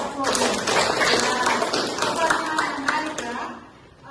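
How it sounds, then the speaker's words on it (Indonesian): Audience at a university teaching session on nutrition claps together, a thick burst of hand claps lasting several seconds before fading, with a voice faintly present underneath. "Tepuk tangan dulu."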